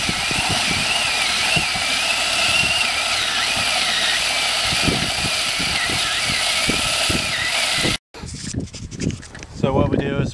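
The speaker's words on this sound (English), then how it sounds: "all we'll do is we'll just drill down" Power drill turning a modified 2.5-inch hole saw down into a golf green, a loud steady motor whine with gritty cutting thuds for about eight seconds, then it stops and someone talks.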